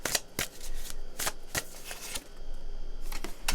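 A tarot deck is shuffled close up, with repeated crisp riffling bursts of cards snapping together at an uneven rhythm, and no voices.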